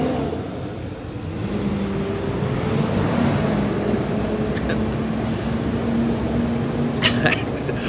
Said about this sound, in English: that loud truck that's driving down the road.